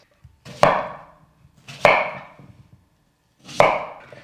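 A knife cuts squash into cubes on a cutting board. Three crisp, close chops land about a second apart, each a hard knock with a short ring against the board, and nobody talks.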